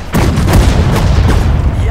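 Artillery cannons fire in the WWII strategy game Sudden Strike 4, in the Battle of Dunkirk: loud, dense booms and blasts overlap continuously for two seconds with a heavy low rumble.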